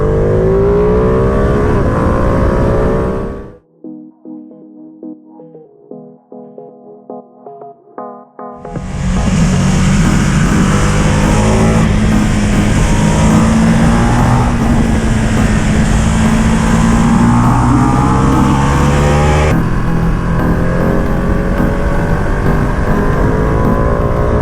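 A 2020 Ducati Panigale V2 motorcycle engine runs loud and close, drops briefly to a lumpy idle, then roars back into sustained high revving that holds strong to the end, with no talking.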